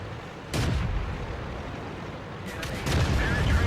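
A tank gun fires in the World of Tanks video game, with sharp booming blasts and rumbling impacts over a noisy battle background, two or three bursts close together.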